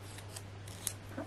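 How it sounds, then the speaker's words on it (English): Scissors snip through card during a papercraft project, a few quick faint cuts in a quiet room. "So this time I need to cut"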